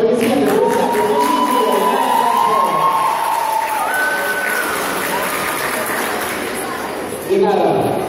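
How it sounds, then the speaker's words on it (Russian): Audience at a Russian artistic dance cup competition applauding and cheering for a dancer, loud sustained clapping with rising shouts throughout, briefly surging again just before the end. "Подарите ей аплодисменты, друзья."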